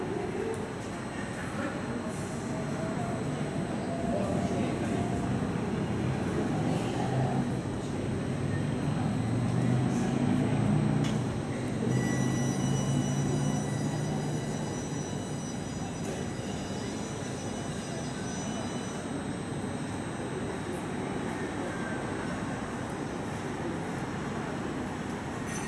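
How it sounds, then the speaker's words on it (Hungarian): Express train from Nagykanizsa arriving at Budapest Déli station, a long, steady rolling rumble with high wheel squeals building midway, set in echoing station ambience with faint background voices. "Déli parti sebesvonat érkezik Nagykanizsáról a 7."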